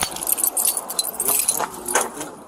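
Car keys jangle and clink in irregular bursts close by during a tense police encounter, bright metallic rattles rising and falling across the moment with no talk over them.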